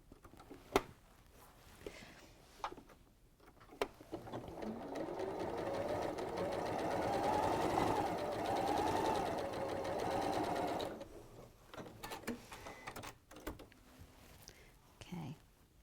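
A sewing machine runs a steady quarter-inch quilt seam for several seconds, a close continuous whirring stitch with quiet talk and handling before and after it.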